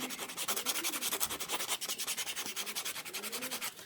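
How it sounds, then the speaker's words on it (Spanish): Sandpaper rubbed rapidly back and forth on a bicycle inner tube around a puncture before patching, producing close, fast, evenly rhythmic scratchy strokes, about eight per second, with no talking. "Por eso es importante lijar bien la superficie donde va a ir el parche."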